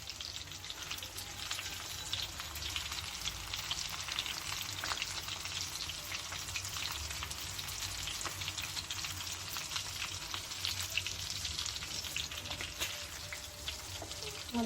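Chicken pieces frying in hot oil make a dense, steady crackling sizzle like heavy rain, close and even throughout, with no voices and no clear stirring strokes.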